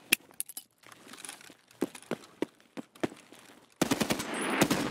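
Gunfire in the game Escape From Tarkov: scattered single shots and short bursts, then a dense, loud sustained burst of automatic fire near the end, close and sharp.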